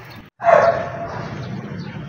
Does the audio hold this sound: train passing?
no